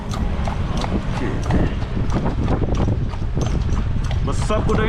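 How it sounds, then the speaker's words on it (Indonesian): Horse hooves clip-clopping on a street in Bukittinggi, West Sumatra, from a large crossbred horse, steady close hoof beats with people talking over them. "Besar kuda ini ya?"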